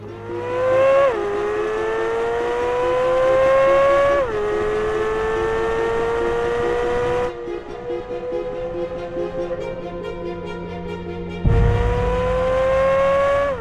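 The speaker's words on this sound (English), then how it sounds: "This car goes so fast, so easily, and the ability to just kind of handle the car on this track is pretty unheard of" A 2023 Corvette Z06 on a race track, its engine loud and close, revving up through repeated rising gear pulls with sharp drops at each shift, briefly easing off before accelerating hard again.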